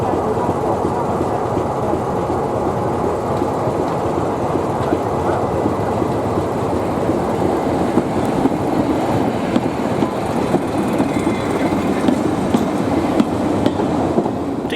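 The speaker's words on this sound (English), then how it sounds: "the railway's resident Class 117 diesel multiple unit." A Class 117 diesel multiple unit train rumbles steadily at close range for the whole stretch, a dense low engine drone with faint rhythmic clatter of wheels over rail joints.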